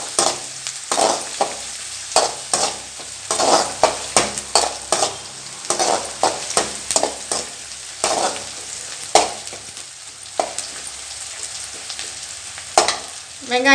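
Onions sauté in a pan for dried vaalai fish thokku, with a soft sizzle broken by repeated rhythmic scrapes and clatters of a spoon stirring against the metal, close and fairly loud, with no talking.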